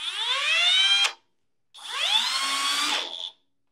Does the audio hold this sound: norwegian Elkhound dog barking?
no